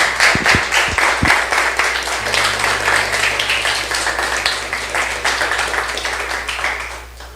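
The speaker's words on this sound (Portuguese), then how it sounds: "Dá uma salva de palmas para Jesus aí." A church congregation claps and applauds continuously at a steady loud level over a low droning hum, fading slightly at the end.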